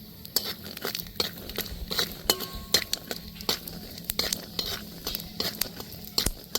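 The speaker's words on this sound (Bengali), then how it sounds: "এখানে আমি নিয়ে নিয়েছি বাদাম বাদামটা ভালো করে ভেজে নেব" Peanuts frying in a pan with a little white oil over a low flame, giving a soft steady sizzle broken by repeated light clinks and scrapes of a spoon stirring against the pan, close up with no talking.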